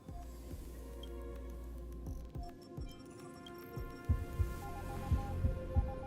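A heartbeat effect from Honkai: Star Rail, low soft throbbing pulses repeating over a steady droning hum, growing louder and more distinct toward the end, with no one talking.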